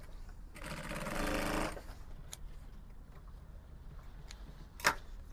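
A sewing machine runs in one steady burst of stitching for about a second on a shirt dress lapel facing, then stops, leaving quiet room noise and a couple of faint clicks.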